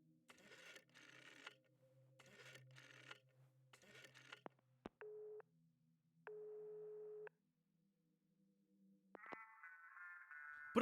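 A telephone in the video game Lorelei and the Laser Eyes gives quiet call tones: faint bursts of dialing, a few flat beeps, then a louder ringing tone at the end, with no talk.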